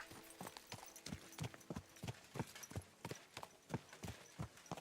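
Horse hooves clip-clop in the video game Kingdom Come: Deliverance II, a steady walking rhythm of distinct hoofbeats, about two per second, close and moderately loud with no talk.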